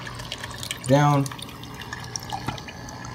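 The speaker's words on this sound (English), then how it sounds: "here's the water that's going inside of it right now" Water trickles and splashes steadily into a custom filtration caddy in the first chamber of an Innovative Marine aquarium, a close continuous flow with small drips, while someone talks over it.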